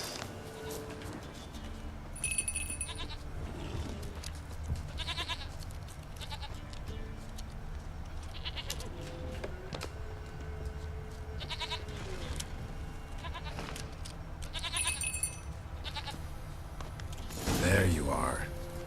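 A goat bleats in the video game The Witcher 3: Wild Hunt, with several loud, wavering cries set against a low ambient game soundscape and someone talking softly at times.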